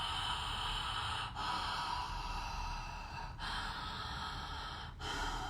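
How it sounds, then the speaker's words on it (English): Loud open-mouth breathwork breathing, deliberately rasping in a Darth Vader style, close to the microphone: long continuous breaths broken by three brief pauses. "I'm kind of doing like Darth Vader breathing because I want you to hear it"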